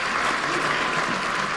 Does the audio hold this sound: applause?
yes